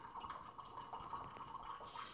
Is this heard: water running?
yes